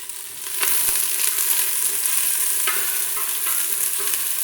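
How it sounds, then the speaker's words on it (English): Onions fry with whole spices in a pan for chicken mandi rice, giving a steady, close sizzle broken by occasional scraping stirs. "I'm going to add the onions and fry this until it becomes transparent"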